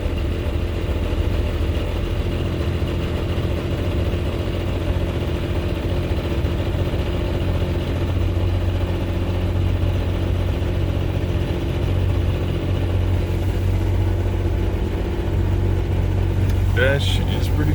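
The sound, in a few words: Toyota FJ60 engine starting up and running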